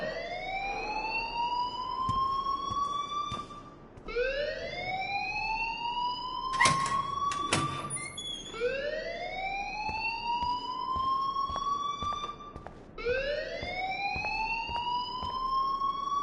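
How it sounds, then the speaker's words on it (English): Alarm blaring in the game Life is Strange: a loud rising-and-falling siren wail repeating in long cycles, with a few sharp knocks and clicks over it and no talk. "please turn off that alarm since that's your job"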